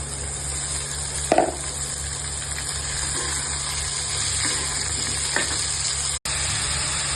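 Onions and radish sizzle and fry steadily in a pan, a continuous close hiss with a brief louder crackle burst early on and no talking.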